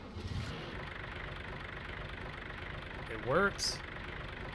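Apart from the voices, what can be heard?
double-motor tractor engine idling in Farming Simulator 19 video game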